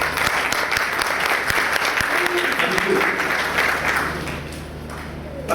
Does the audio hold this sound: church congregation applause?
yes